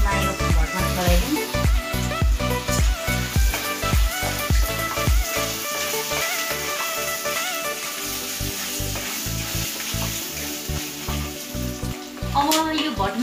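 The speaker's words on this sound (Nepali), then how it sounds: "अब यो प्याज खरिलो भइसकेको छ यसमा यो भटमास चलाइदिउँ" Black soybeans are stirred and frying with crisp onions in a pan, a loud, constant sizzle broken by rhythmic scraping strokes of the spoon, with a brief quieter stretch midway.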